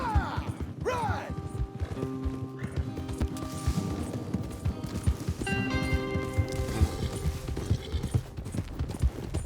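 Horse hooves clip-clop steadily in Red Dead Redemption 2 as riders travel together, a continuous rhythmic trot under game music tones and occasional snorts, fairly close and moderately loud.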